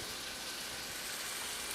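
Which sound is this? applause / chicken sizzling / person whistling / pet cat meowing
chicken sizzling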